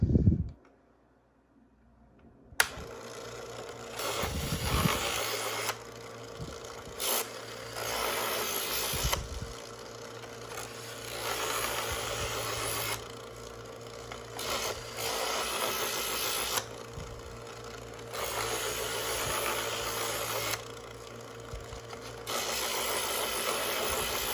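A Chef'sChoice 15 Trizor XV EdgeSelect electric knife sharpener hums steadily while a knife edge is drawn through its polishing stage. Its grinding hiss swells and eases with each repeated pass, close and continuous, with no talking.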